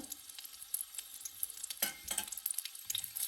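Garlic, tamarind, shallots and curry leaves sauté in a pan for a Kerala chammanthi, giving a soft, steady sizzle with crackling pops and a few scraping stirs. It is faint and close, with no talk.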